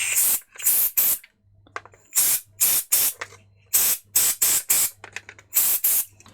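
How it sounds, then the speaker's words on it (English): Compressed air fired in short, loud hissing bursts into the button area of a Game Boy Pocket during a repair, about a dozen sharp blasts in quick irregular succession with brief quiet gaps between them. "I'm going to blow that out with some compressed air"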